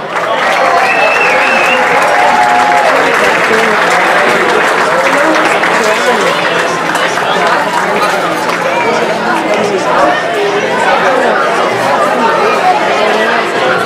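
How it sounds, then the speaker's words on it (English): Applause at an awards dinner honoring high school players, loud and continuous clapping mixed with cheering and crowd chatter that fills the room for the full stretch. "There's a round of applause for the girls who are going on to play in college next year"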